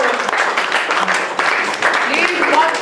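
Audience applause at a hyena open mic comedy set at a furry convention, a steady wash of clapping filling the room with some voices mixed in.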